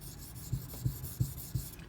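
A knife edge is stroked across a Shapton Kuromaku 1500 grit whetstone in four quick, evenly spaced rasping passes, close and faint, with no voices.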